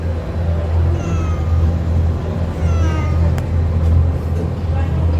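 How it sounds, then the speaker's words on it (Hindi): A cat in an office meows a few times, short rising and falling calls standing out over a steady low rumbling hum and background murmur. "है हमारी अम्मा जी की बिल्ली ऑफिस में।"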